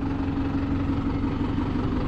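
A TD110 tractor engine idles steadily in a field, a close, continuous low rumble with a constant hum and slight vibration, no voices over it.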